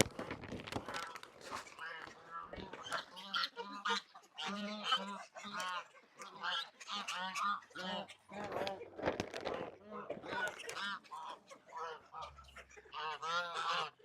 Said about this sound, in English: Hi, gooses. And they all come running, as you can see.